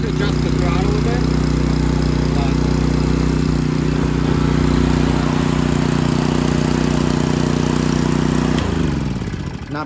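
Small Honda GX100 engine with a repaired broken casting, started cold, runs at a steady loud idle with a strong low hum. The pitch drops abruptly near the end as the throttle is changed.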